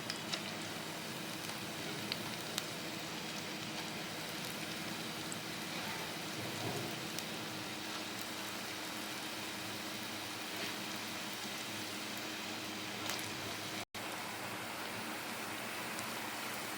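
Black urad dal bondas deep-frying in hot oil over a medium flame, a steady soft crackling hiss like rain that runs unbroken throughout, close and fairly quiet.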